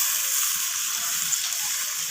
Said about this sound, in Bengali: তো এখন আমি এখানে দিয়ে দিচ্ছি প্রয়োজন মতো জল